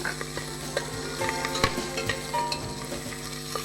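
Fenugreek leaves fry in a pan with a steady, faint sizzle while a utensil stirs them, making light scraping taps at irregular intervals, with no talking.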